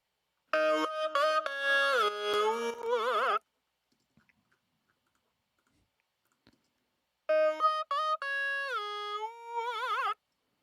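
Two bursts of a buzzy, vowel-shaped synth sound with wobbling, wah-like formants, separated by several seconds of silence; a synth preset made for a talk box, heard on its own.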